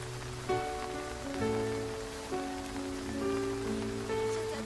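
Steady rain falls throughout as a soft, constant hiss, laid under sustained melodic music with shifting held notes.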